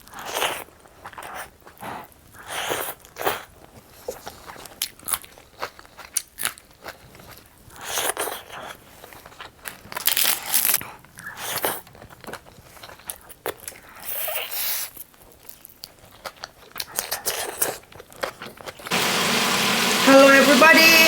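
Crunchy bites and chewing of chicken wings during a Nepali mukbang meal, close-up and intermittent, with crisp bursts separated by quieter pauses and brief talk.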